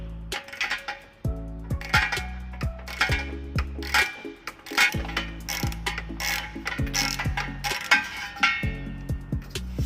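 A ratchet with a socket clicks in repeated bursts while a frame bolt comes out under a Dodge Grand Caravan, near and prominent, with short pauses between strokes and a low mechanical hum underneath.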